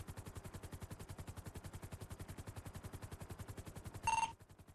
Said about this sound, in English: Shots fired by both parties.